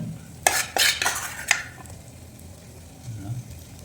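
Potato 65 pieces frying in about 5 ml of oil, with a burst of several quick spatula scrapes and clatters against the pan, then a quieter, low sizzle.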